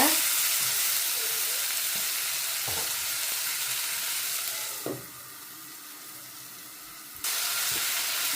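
Long bean curry is mixed in a pot over a continuous steamy sizzle, with a few soft spoon knocks against the pot; the hiss dips quieter for a couple of seconds, then returns.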